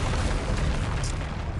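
Bombarda explosion spell cast in the Hogwarts Legacy video game: a dense, sustained booming blast with heavy low rumble and broadband crackle, loud and continuous throughout with no clear gaps.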